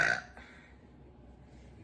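A single burp after gulping soda during a soda drinking challenge, loud and abrupt at the very start, then fading into quiet room tone.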